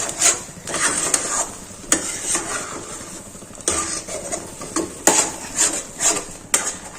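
Mawa being stirred into carrot halwa in a pan, steady scraping and rubbing strokes with periodic sharper scrapes, close and continuous with no talk.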